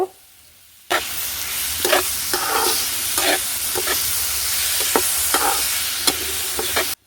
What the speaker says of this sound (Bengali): আলুগুলো দিয়ে একটু কিছুক্ষণ আমি নাড়াচাড়া করে নেব